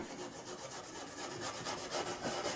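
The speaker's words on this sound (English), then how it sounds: "just get the wire wool and just rub it lightly" Wire wool rubbed lightly over a painted surface, giving a steady, soft rasping scrape that carries on continuously with a faint back-and-forth pulse and no voices.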